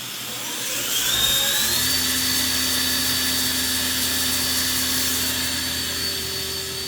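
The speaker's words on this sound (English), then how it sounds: "Turn the spindle on." A Feeler VMP-1100 4-axis CNC vertical machining center spindle spins up and runs, a steady high-pitched whine with a rising tone at first, then holding a constant loud drone throughout.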